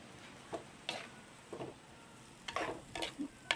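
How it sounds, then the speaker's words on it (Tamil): Onions, garlic, green chillies and curry leaves sautéing in oil for a fried fish curry, with a faint sizzle under about eight scraping stirs of a spoon against the pan, close by and with no talking. "வெங்காயம் பச்சை மிளகாயெல்லாம் நல்லா வதங்கிட்டுது."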